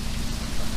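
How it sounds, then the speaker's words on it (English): Heavier rain coming down in Florida, a loud, dense, continuous wash of rain noise during a brief moment with no talking. "it's starting to rain harder"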